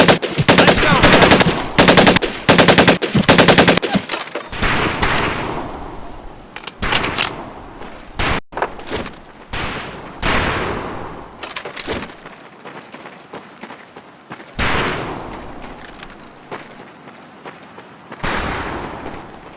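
Rifle gunfire at a firing range in the Medal of Honor Pacific Assault game, loud rapid bursts of repeated shots early on giving way to sparser single cracks and volleys with short pauses, no talk.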